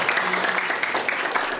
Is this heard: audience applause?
yes